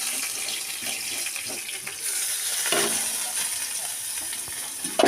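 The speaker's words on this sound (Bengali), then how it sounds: "এই পাঁচ ফোড়ন আর তেজপাতা শুকনো লঙ্কাকে ভালো করে ভেজে নিতে হবে" Panch phoron, dry red chillies and bay leaves frying in hot oil, a steady bright sizzle throughout with small crackles and a brief clatter near the end.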